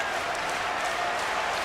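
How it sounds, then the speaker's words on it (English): An arena crowd at an ice hockey game between Finland and Sweden cheers and claps in a steady, distant roar, with no single voice standing out. "And the crowd cheers him on."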